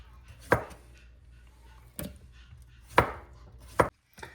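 Knife slicing cucumbers about an eighth of an inch thick on a cutting board, giving four separate crisp chops spaced out over a few seconds, close and clear with quiet pauses between.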